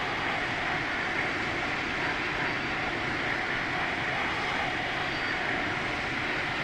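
Airliner engines idling on a Toliss A319 flight simulator while holding short of the runway, a steady, loud broadband jet roar with a constant whine that runs unchanged from start to end, no talk over it.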